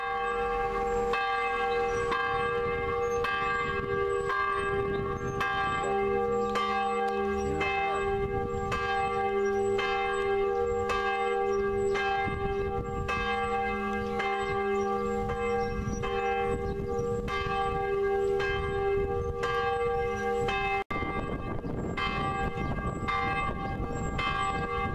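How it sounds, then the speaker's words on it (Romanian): Church bells of a German church in Iecea Mare ring steadily and loudly throughout, several bells overlapping in a continuous peal with no talking. "Ajung într-un moment în care încep clopotele să bată."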